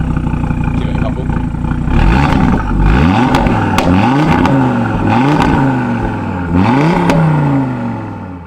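Audi RS3 hot hatch with sports exhaust revved several times in quick succession from idle, each blip rising and falling sharply with loud crackles between, close up and alone.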